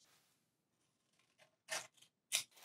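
Scissors snip along a curved line on a paper sewing pattern, a few crisp close cuts in quick bursts after a quiet start.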